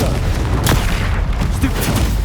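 A Confringo spell explosion in Hogwarts Legacy, heard as loud, dense blasts and booming rumble in a busy game battle, with no talking.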